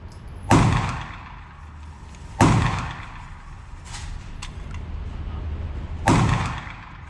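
Three loud, sharp pistol shots from a Sig Sauer P320 fitted with an Apex Tactical trigger, fired at a range of about 7 to 8 yards, spaced unevenly with ringing decay between them.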